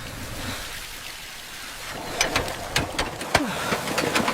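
Water gushes from a repaired irrigation pump on a farm field, a soft hiss at first that turns into louder, uneven splashing and spattering.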